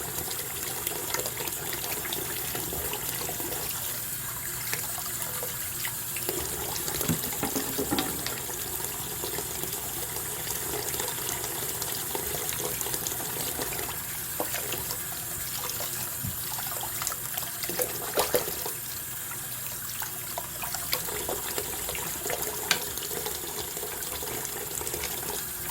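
Tap water runs steadily into a bathroom sink while a makeup brush is rinsed, a continuous close hiss with small splashing variations throughout.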